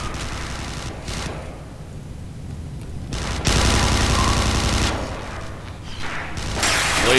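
Sustained suppressive gunfire in the sci-fi shooter Interstellar Marines, long automatic bursts loud and dense, pausing briefly between volleys and rising again toward the end, with no talk.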